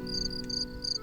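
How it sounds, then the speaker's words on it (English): Crickets chirp toward evening in steady, rapid high-pitched pulses, several overlapping trills repeating close by with a faint low background hum. "Towards evening, the crickets."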